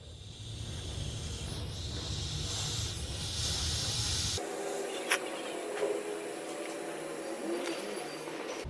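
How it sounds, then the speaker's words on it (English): A propane tank's pressure release valve lets out a steady, moderately loud hiss that suddenly drops to a thinner, quieter hiss partway through, with a few faint clicks afterward and no talking. "Now you need to make sure that the pressure is fully released before you disconnect"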